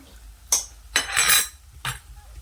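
Cooked chickpeas are stirred into chole gravy in a pan, bringing a few loud, close scrapes and clinks of a spoon against metal, with a longer wet mixing stroke in the middle and no voices.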